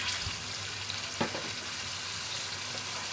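Potatoes tipped into thickened masala in a frying pan give a steady broadband sizzle, with a single sharp clatter of pieces landing near the start and a brief stir-like scrape.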